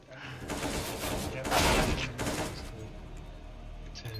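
Rapid video game gunfire bursts from an aim-practice session, dense volleys at moderate loudness with one heavier burst midway, mixed under a loud game soundtrack and chatter.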